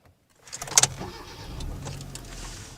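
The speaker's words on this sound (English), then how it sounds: "The next thing you'll notice is the engine as soon as you turn the car on." A Hyundai Accent car starting up, with a brief sharp crank and catch followed by a steady low engine hum settling into idle, heard close and alone.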